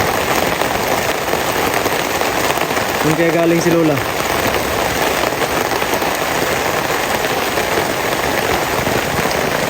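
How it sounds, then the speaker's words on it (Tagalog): Steady rain falls on a surface throughout, a dense continuous patter at close range, while a voice briefly speaks near the start. "Ulan."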